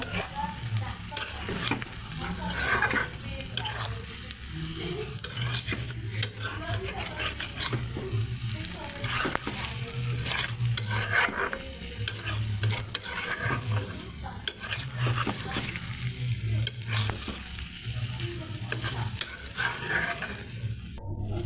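Eggs frying in spice masala in a pan, a continuous close sizzle with repeated scraping and stirring of a spatula throughout, fairly steady and moderately loud, with faint speech in places.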